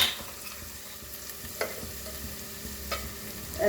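Onions with ginger-garlic paste fry in a pan, a low continuous sizzle broken by a few sharp stirring scrapes, close and fairly quiet.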